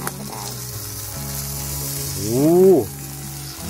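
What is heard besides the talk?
food sizzling in an iron pan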